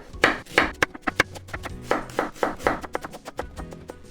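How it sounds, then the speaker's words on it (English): A knife chops an onion on a cutting board for a Japanese croquette, close and crisp, in about a dozen irregular sharp knocks with short pauses between them. "So that when I cut like this here, I can make small pieces very easily."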